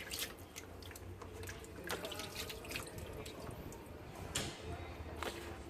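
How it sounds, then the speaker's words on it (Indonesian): Water splashes and drips while a bearded dragon is rinsed, a steady close wet trickle with scattered drips throughout and no clear pauses. "Kita bilas lagi dengan air."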